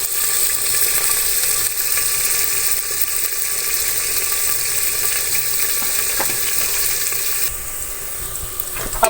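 Chopped onions frying in oil in a pan for restaurant-style cholay, a steady close sizzle that holds evenly throughout with a faint clink near the end.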